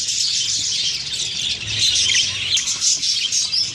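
Budgie parrots in a breeding cage, some with eggs and chicks, chatter and chirp in a constant dense flock of high squawks and tweets, loud and close.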